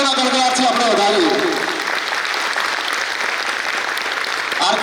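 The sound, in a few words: crowd applauding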